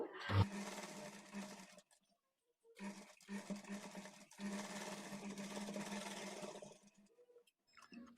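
Sewing machine running double stitches along a blouse side seam in bursts, a steady whirring hum broken by brief pauses near and alone, with no talking.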